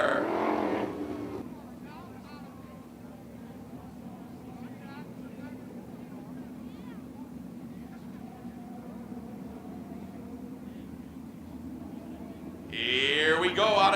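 305 sprint race cars on the dirt oval at Attica Raceway Park, with a steady distant engine drone that swells louder as the cars pass at the start and end, under a voice talking.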